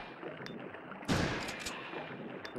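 Gunfire in the PlayStation game Resident Evil Survivor: a single booming shot with a short rumbling tail, heard over a steady, low game background hum.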